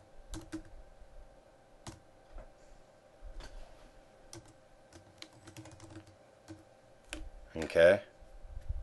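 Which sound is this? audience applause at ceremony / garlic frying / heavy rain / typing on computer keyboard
typing on computer keyboard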